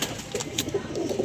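Pigeons coo in soft, repeated throaty rolls close by, layered over a steady background hiss from a loft holding dozens of birds.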